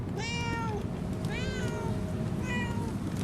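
Three clear, separate meows from a cat in the PS4 video game Murdered: Soul Suspect, evenly spaced over a steady low background hum, with no talking.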